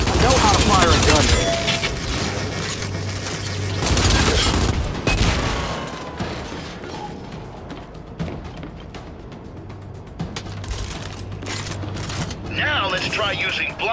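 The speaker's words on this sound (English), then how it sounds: "Try using blind fire to destroy them while keeping yourself protected and covered." Video game gunfire in Gears 5 while blind firing at Guardian robots, with bursts of shots, mechanical clatter and booms under game voices and dialogue.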